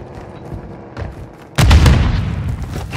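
A frag grenade detonates in Call of Duty: Modern Warfare II, a sudden loud boom after a quieter lead-in of background game noise, with the blast ringing out and decaying.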